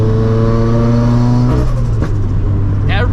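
A 400HP turbocharged Subaru FRS revs hard close by, its engine note climbing in strong harmonics before cutting off, followed by sharp popping backfires on the throttle lift, loud and up front.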